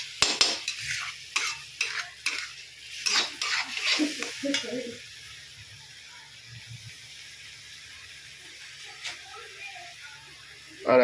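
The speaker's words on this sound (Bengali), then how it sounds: "একটু হালকা করে জল দিয়ে দিলাম, ওটা কষতে থাকবে হালকা করে।" A spice mixture cooking down in a pan with a little added water: brisk scraping stirs and a soft sizzle up close for several seconds, then a quiet low simmer with an occasional clink.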